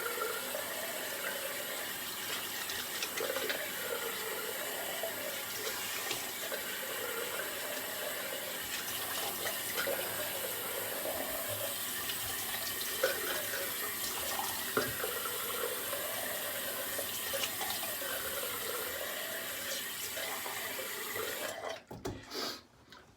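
Water runs steadily from a tap into a sink for rinsing after an old-school shave with Williams soap, a continuous close hiss that cuts off abruptly near the end.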